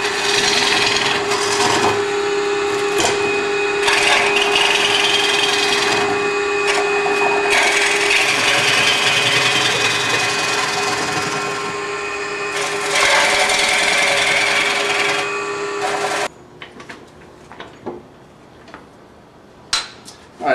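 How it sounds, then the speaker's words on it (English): A long-handled gouge hollows out the inside of a wooden bowl spinning on a lathe, reaching far over the tool rest. It makes a loud, steady scraping rasp with a constant motor tone underneath, easing off into brief intermittent cuts near the end. "this is designed to reach far over the tool rest here and allow me to kind of scoop out all the wood"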